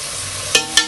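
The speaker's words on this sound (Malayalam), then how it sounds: "അതും ഇട്ട് ഇനി ഇളക്കി കൊടുക്കുക." Kabsa ingredients in a pot with a Maggi stock cube, giving a steady sizzle and two quick, distinct scrapes of a spoon stirring near the end.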